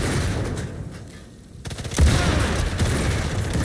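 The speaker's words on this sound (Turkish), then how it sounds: "O TNT patlatacağım şimdi dur" In the video game Sniper Elite 5, a sudden deep blast hits about halfway through and is followed by a dense rumbling, crackling roll of gunfire and debris, loud and close, after a brief dip to quiet.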